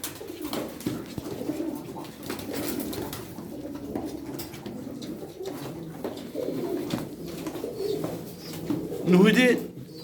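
A male blue pigeon coos in a bird enclosure, with low, soft cooing phrases that build toward a louder burst near the end, over faint background rustling and a distant voice.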